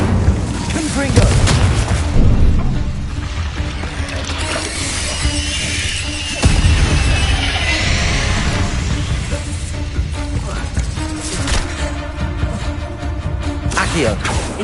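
Repeated booming blasts of the Confringo spell in Hogwarts Legacy erupt amid chaotic combat, heavy thuds and shattering debris rising and falling under a busy din, with a voice speaking at times.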